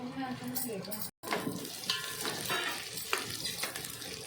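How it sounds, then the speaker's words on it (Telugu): Chopped onions dropped into hot oil fry with a loud, dense, continuous crackling sizzle close by, briefly cutting out for a moment before resuming with scattered pops. "కట్ చేసి పెట్టుకున్న ఉల్లిపాయ ముక్కల్ని నూనెలో వేసుకోవాలండి"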